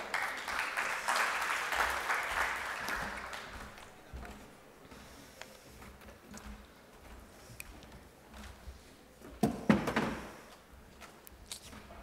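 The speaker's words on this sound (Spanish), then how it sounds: "lo recibimos también con un fuerte aplauso" Audience applause at a ports and containers business forum, a burst of clapping in the first few seconds that fades into quieter room noise with scattered knocks and a sharp louder clatter near the end.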